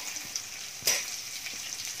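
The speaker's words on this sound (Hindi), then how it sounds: "इसको हल्का सा ब्राउन होने देंगे, प्याज इसको मिक्स कर लेंगे।" Onions and cumin fry in oil in a kadai for dhaba-style kadai paneer, giving a soft steady sizzle close by with one sharp scrape of stirring near the start, no voices.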